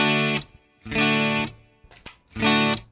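Three sustained electric guitar chords through a Yamaha THR amp with reverb, ringing out with a distorted, effected tone, separated by brief gaps and a few muted string scrapes.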